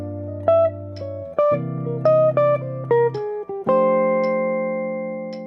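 A jazz line from a solo, played as a short run of crisp, clearly separated melodic notes over low sustained bass tones, heard alone at moderate volume.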